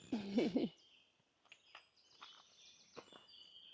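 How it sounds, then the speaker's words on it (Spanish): A brief rustle gives way to several thin, high bird calls and chirps, scattered and fairly faint in a quiet outdoor setting beside a walking trail in Germany. "¿Cómo se escuchan los pájaros?"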